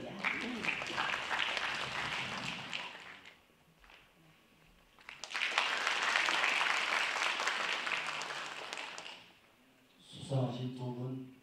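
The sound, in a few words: audience applause welcoming a speaker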